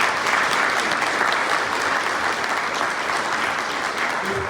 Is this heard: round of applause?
yes